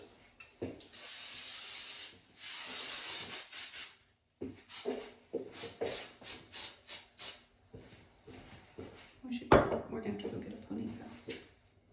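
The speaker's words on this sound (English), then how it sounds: "Now that I have that all waxed and smoothed, I'm going to spray the whole thing." Hairspray sprayed over waxed, smoothed hair for a dance hairstyle, several long hissing aerosol bursts followed by a run of short rapid sprays, close and fairly loud, with brief rustling between.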